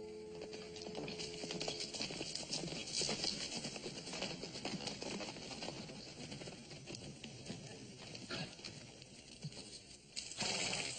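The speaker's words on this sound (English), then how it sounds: "Charlie, take the horses." Rhythmic hoof clip-clops from horses on a hard surface, steady and fairly close, over a busy outdoor background.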